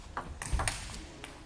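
Table tennis ball served and struck during a women's singles semifinal at the 2012 North American Championships, a few crisp, quiet pings spaced apart in a hall.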